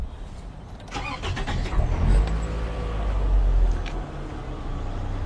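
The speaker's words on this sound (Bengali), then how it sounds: "একটু ভাই গাড়িটা স্টার্ট দেখ" A Toyota Camry GLX at a second-hand car market in Bangladesh cranks briefly, catches, and settles into a low rumbling idle that swells slightly, heard up close with outdoor background noise.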